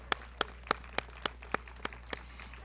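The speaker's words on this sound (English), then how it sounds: "I think we should give really big applause to Athens on Easy Street." About nine evenly spaced single claps ring out faintly over a low steady hum, thanking a Greek restaurant at a Chanukah event.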